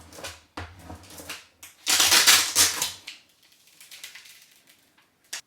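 Crafting transfer tape being cut, giving a series of short crisp snips and crinkly rustles up close, with a denser burst in the middle before trailing off into faint handling noises.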